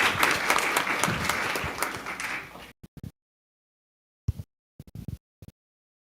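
Audience applause at a school board of education meeting, greeting student presenters: a few seconds of steady group clapping that stops abruptly, followed by a handful of scattered, isolated late claps.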